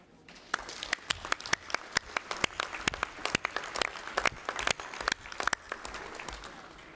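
Applause at a plenary meeting of the COSAC parliamentary conference: a roomful of people clap steadily for several seconds, dense overlapping claps at moderate distance, with no speech over it.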